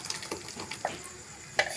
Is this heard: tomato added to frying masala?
yes